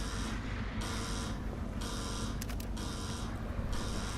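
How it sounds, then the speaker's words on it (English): A buzzer in The Evil Within sounds as a door opens, heard as a pulsing electronic drone in repeated bursts of about half a second over a steady low hum, with no talking. "as soon as you hear that, it buzzes, that door opens"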